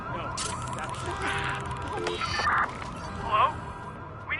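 Wailing ambulance siren in the video game Watch Dogs 2, sweeping up and down under busy street noise, with voices talking over it.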